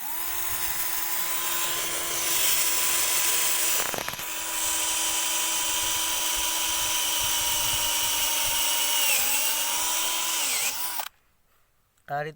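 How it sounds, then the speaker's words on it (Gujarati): A power drill bit bores holes for drip irrigation fittings, a loud, steady high whine that runs close and unbroken for about eleven seconds, then cuts off abruptly. "ડ્રીલ બીટથી હોલ પાડવામાં આવે છે"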